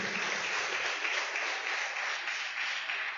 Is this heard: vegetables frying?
no